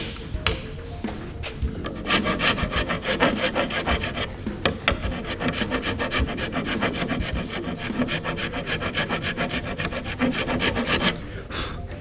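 A round rasp filing a wooden frame in steady, rapid back-and-forth strokes, loud and close, with a brief pause before the rhythmic rasping resumes and runs continuously.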